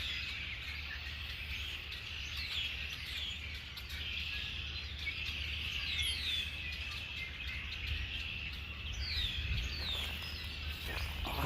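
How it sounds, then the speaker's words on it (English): Birds call and chirp at Big Creek Lake in Iowa, a steady mix of tweets and short calls over a low, constant rumble of a distant construction machine, with no talking. "Awesome, all these bird noises here."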